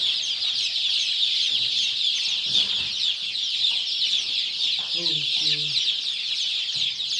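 Black reverse-feathered country chickens cluck in short, scattered bursts under a constant high insect-like hiss, with a couple of nearer clucks midway.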